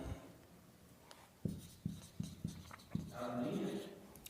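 Marker or chalk tapping and scratching on a board during a Hindi-language entrepreneurship lesson, a handful of short distinct strokes in quick succession, faint and close, with quiet room tone between.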